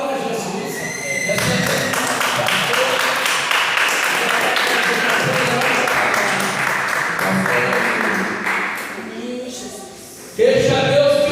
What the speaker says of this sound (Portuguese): Então eu quero que vocês aplaudam Jesus.